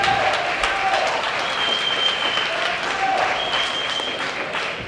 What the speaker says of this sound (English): If you guys can give a round of applause to both our speakers